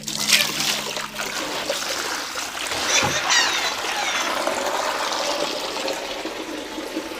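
Running water splashes and trickles steadily into a vessel as it is filled for washing dishes at home, a continuous rushing pour that stays fairly loud and close throughout.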